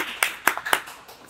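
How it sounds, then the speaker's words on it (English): Hands clapping for a restaurant and its food before a meal: three or four quick, sharp claps in a short burst, close and dry, with no talk. "clap it up for iKRAVE and this food"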